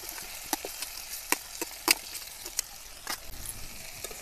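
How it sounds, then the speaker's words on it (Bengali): Fried cauliflower and potatoes are added to sizzling spice masala, giving a soft frying hiss punctuated by scattered sharp clinks and scrapes of stirring, close and without talk. "এবার ভেজে রাখা ফুলকপি আর আলুগুলো দিয়ে দেব।"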